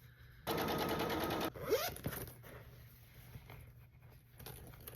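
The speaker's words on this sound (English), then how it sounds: "You gotta sew that bottom piece closed so you don't lose stuff in the lining" A sewing machine stitches the bottom of a pouch lining closed, giving one loud steady mechanical run of about a second, followed by faint handling and rustling noises.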